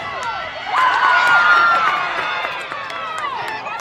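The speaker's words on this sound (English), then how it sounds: "for a 7-0 game, this East Ascension crowd is loving it" An East Ascension crowd of spectators cheers and shouts at a girls high school soccer game, a loud swelling roar that peaks early and then eases while scattered voices continue.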